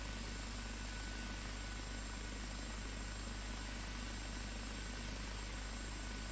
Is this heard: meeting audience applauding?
no